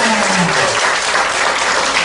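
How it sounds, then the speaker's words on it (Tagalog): Applause from an audience at a business presentation in Kuwait City, a dense, steady burst of clapping lasting about two seconds with a brief voice rising above it at the start. "Confirm natin sa palakpak."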